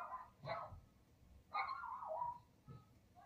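Several dogs barking in short bursts somewhere in the distance on a frosty night, three separate volleys spaced apart with no people talking.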